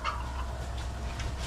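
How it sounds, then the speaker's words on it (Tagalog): Chickens clucking and squawking nearby over constant background noise, a short burst of busy fowl calls. "buwig manok ni Ikab."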